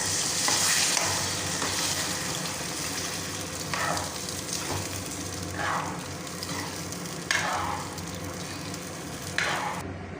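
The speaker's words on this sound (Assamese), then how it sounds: "এতিয়া মই নৰসিংহ জোলখিনি ঢালি দিছোঁ।" Narasingha (curry leaf) broth going into a hot pan for an Assamese fish curry gives a steady loud sizzle, punctuated by several short scraping stirs.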